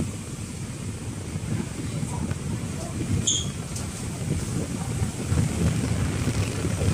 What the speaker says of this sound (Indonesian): Angin berhembus kencang.